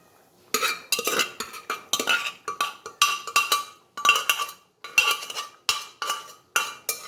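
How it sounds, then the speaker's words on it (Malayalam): Cooked beef with onion, green chilli and ginger being scraped and tipped into a cheenachatti pan, a steady run of sharp metallic clanks and scrapes from a spoon against the pan, close and loud, with no talking. "ഇനി ഇത് ചീഞ്ചട്ടിലേക്ക് ഇടാം"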